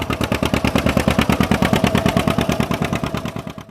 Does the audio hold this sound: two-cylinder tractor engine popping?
yes